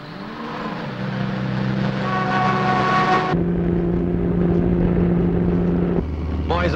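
A Jeep engine drones steadily along mountain roads, a loud, close hum whose pitch holds level and then shifts abruptly several times as the scene cuts.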